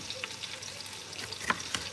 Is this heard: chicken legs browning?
yes